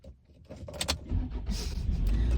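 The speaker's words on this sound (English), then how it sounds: "I think I need to start my car again" A car engine cranks and catches at night, the motor turning over and settling into a steady idle that builds from quiet rustling into a loud, continuous rumble close by.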